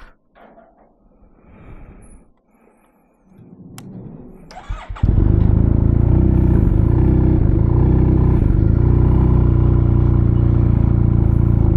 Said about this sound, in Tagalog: First time nang hindi maingay ang motor.